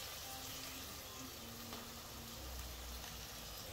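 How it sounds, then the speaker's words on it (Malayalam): Onions sautéing with salt in a pan while a chicken biryani is being cooked, giving a soft, steady sizzle throughout, quiet and low under a faint background hum. "കുറച്ച് ഉപ്പ് ഇട്ടെടുത്ത് കഴിഞ്ഞാൽ ഉള്ളി പെട്ടെന്ന് വഴറ്റാൻ പറ്റും, ബ്രൗൺ ആവും."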